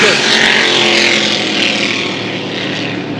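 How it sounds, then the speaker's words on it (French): Loud, continuous roar of vintage racing hydroplane engines at full throttle during a regatta in Valleyfield, a dense mechanical drone that eases off slightly toward the end. "on ouvre les gaz un peu partout, là. Et ça vous donne le bruit qu'on aime, le bruit des régates"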